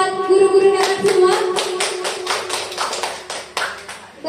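An audience at a school event applauds the teachers with a burst of clapping and tapping hands, lively at first and tapering off over a few seconds.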